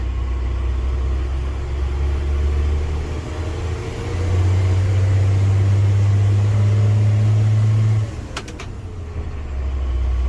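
A Unimog U500 expedition truck cruises in sixth gear at low road speed, its deep engine drone steady and close inside the cab, swelling to a stronger hum midway before easing back, with a brief click near the end.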